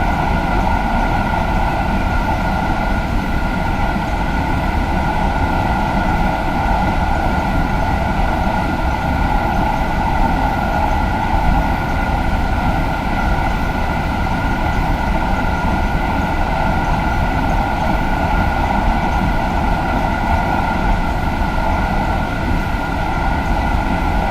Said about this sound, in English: when you're talking about a train going 320 kilometres an hour